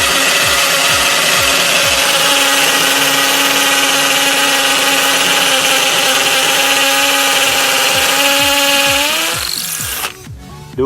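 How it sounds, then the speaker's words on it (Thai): A 24V iMac cordless drill in hammer mode bores into a concrete house wall, giving a loud, close, continuous whine with rapid pulsing impacts that winds down and stops near the end. "ปรับระบบกระแทกนะครับผมเจาะกำแพงบ้านนะครับผมปูนกำแพงบ้านนะครับ"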